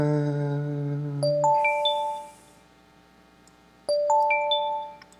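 Two-tone electronic chimes ring out twice, a bright ding-dong with a pause between, loud and close.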